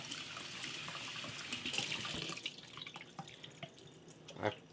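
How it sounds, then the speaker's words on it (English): Quinoa is rinsed under a running kitchen tap, with a trickling, splashing water stream over grains in a sink, fairly quiet and close, with a few louder splashes and clinks toward the end. "So rinse your quinoa."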